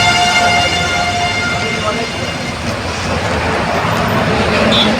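A steady, loud roadside roar of passing traffic surrounds a bus stopped at Kolaghat, with engine rumble, hiss and a faint horn, and no clear voices.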